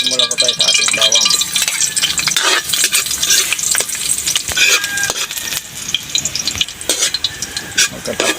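Garlic sautéing in a pan for pork asado, a loud, steady close-up sizzle with frequent scraping stirs and light rattles of the pan and utensil, continuous throughout.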